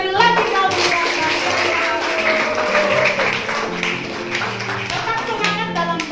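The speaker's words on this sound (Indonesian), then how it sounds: "Dan tepuk tangan sekali lagi kalian." Applause after a class XII school contemporary music performance: steady clapping from the audience mixed with music tones and voices, fairly loud and continuous, tapering slightly toward the end.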